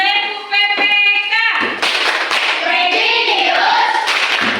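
Schoolchildren perform the rhythmic TEPUK PPK clapping chant in a classroom, with sung or chanted voices carrying over a run of loud, close claps.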